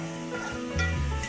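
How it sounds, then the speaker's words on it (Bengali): Food cooking with tomatoes in a pan, a brief close sizzle and frying hiss with a stirring scrape, heard alone. "এই হলো আমাদের রান্না চলতেছে"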